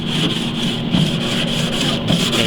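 A grill grate being scrubbed clean with a wire brush in short, steady back-and-forth strokes, a close, loud, continuous rasping with rhythmic pulses.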